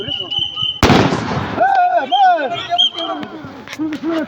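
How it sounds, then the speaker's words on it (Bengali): A loud explosion blast bursts out suddenly near the start, a sharp boom followed by a rumbling decay, then scattered pops and crackles continue while voices shout and talk throughout. "এই মুহূর্তে বম ব্লাস্ট হয়ে গেল"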